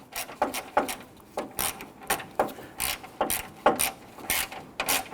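A hand ratchet snugs the grille bolts on a 2006-2010 Hummer H3, sounding in short repeated bursts of rapid clicking, close up, with brief pauses between strokes and no talk.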